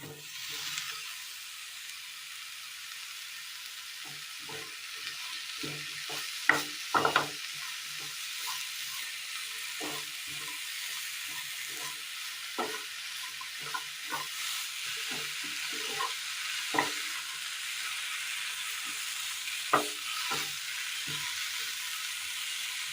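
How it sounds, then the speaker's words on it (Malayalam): Chopped pongu, the spongy sprouted coconut kernel, stir-fried with well-roasted spice powders gives a soft, even sizzle under frequent light scraping stirs and spoon taps, close and moderate, with no talking. "ഇനി ഇതിലേക്ക് അരിഞ്ഞു വെച്ചിരിക്കുന്ന പൊങ്ങ് ചേർത്ത് കൊടുക്കാം"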